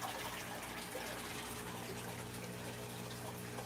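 Fresh tap water pours into an aquarium tank with a constant rushing, bubbling flow, close and even, over a low steady hum and with no talk.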